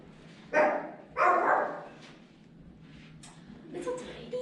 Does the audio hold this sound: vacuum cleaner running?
no